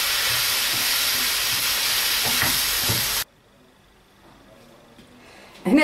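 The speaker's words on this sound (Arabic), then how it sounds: "بعد ما تقلي شويه اللحم المفروم تاعك، دوك خلطي كل حاجه وخليهم يطيبوا مليح" Minced meat frying in a pan for tacos, a loud, dense hiss and sizzle close up that cuts off abruptly partway, leaving near silence before a short thump at the end.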